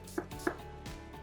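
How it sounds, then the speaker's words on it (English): A knife chopping onions on a board for a tomato and onion raita, a few sharp, close, evenly spaced chops with quiet gaps between, no talking. "I finely chop some onions"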